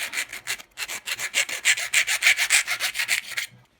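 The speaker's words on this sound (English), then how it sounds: "So I've cut it off and I've got a bit of a burr, so I'll take that off." A file is drawn back and forth across the cut edge of a metal bushing to clear the burr, about twenty even rasping strokes in a quick steady rhythm, close and alone.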